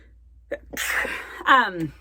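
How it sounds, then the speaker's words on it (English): A single sneeze: a short catch of breath, then a loud, close burst. "as I'm going to sneeze"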